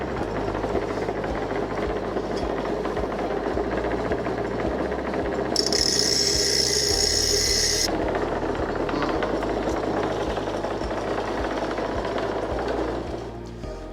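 A grinder runs continuously against a metal platform on an outdoor sign build, a loud, steady mechanical roar with a brief harsher, higher-pitched grinding stretch midway.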